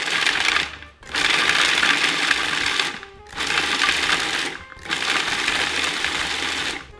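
A blender pulses macadamia nuts with basil and garlic for pesto, four loud bursts of whirring motor separated by short pauses.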